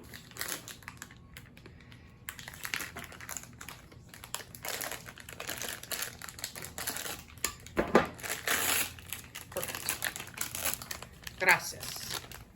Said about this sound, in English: We'll put it in a Ziploc bag.